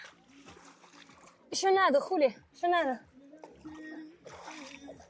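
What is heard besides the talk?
splashing in the Volga river water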